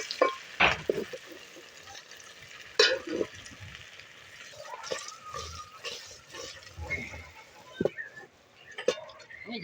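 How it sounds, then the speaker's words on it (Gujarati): Green chillies fry slowly in oil on a low flame, a faint crackling sizzle running beneath voices chatting nearby, with occasional sharp pops and stirring knocks. "ફેમિલી મરસા તળવાનું પણ ચાલુ થઈ ગયું છે"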